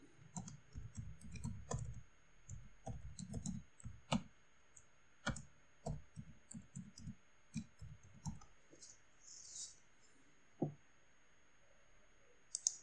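Someone types a password on a computer keyboard at a sign-in screen: quiet, close keystrokes in irregular bursts with short pauses and a few sharper single taps, and no talking.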